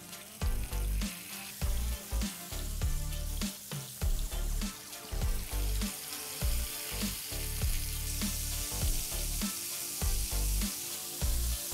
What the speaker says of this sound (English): So I've heated 1 tablespoon of ghee here and now we'll just fry the koftas.